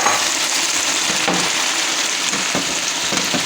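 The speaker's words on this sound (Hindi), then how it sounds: "सब्जियाँ और चिकन अच्छे तरीके से फ्राई हो गए हैं" Chicken pieces and vegetables sizzle in a hot pan, a steady close-up crackle of oil with occasional louder pops and scrapes of stirring, no voices over it.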